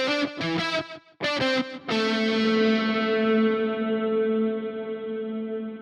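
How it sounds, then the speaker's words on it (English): Guitar notes played dry and then ringing out through a spring reverb, a few short plucked notes followed by a long sustained note that decays slowly with a lingering reverberant tail, loud and alone. "So you hear that spring reverb really coming in there."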